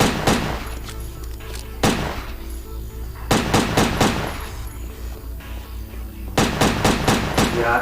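Gunfire in the Dreamcast action game Headhunter: loud rapid bursts of automatic fire come in several clusters with short gaps, over a steady low game soundscape.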